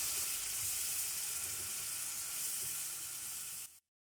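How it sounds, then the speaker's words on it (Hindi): Garlic and ginger paste frying in oil for mutton korma, a continuous close hissing sizzle that holds steady for several seconds before cutting off abruptly. "लहसुन को हम 1 आध मिनट के लिए फ्राई कर लेंगे।"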